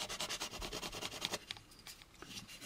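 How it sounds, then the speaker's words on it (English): Sandpaper rubbed back and forth across a plastic model kit part to remove sink marks, a close rhythmic scratching of quick strokes that slows and loosens toward the end. "you should be able just to again kind of cross sand these out by just turning this"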